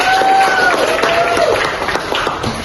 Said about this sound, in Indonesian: tepuk tangan dong buat temannya